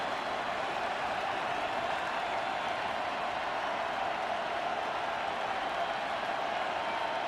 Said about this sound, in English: you see John Morgan getting that crowd fired up.